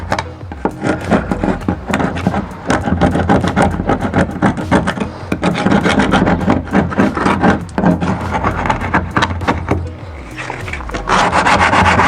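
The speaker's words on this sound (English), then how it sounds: "it's time to scrape and sand the door using this 80 grit sandpaper" A painted door with peeling, flaky paint is scraped and sanded with 80 grit sandpaper, giving dense, continuous rasping strokes up close with a steady back-and-forth rhythm and no talk.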